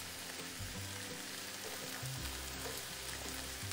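Pasta and vegetables stirred in a frying pan make a quiet, even sizzle with occasional low bumps and scrapes from the stirring.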